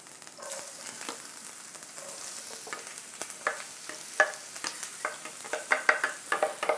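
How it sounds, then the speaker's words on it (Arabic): Hot oil frying in a pan as dough goes in, a steady crackling sizzle with sharp pops and spatters growing busier toward the end, close by with no talking. "نجيو نديروها تتقلى، الزيت تاعنا سخنت"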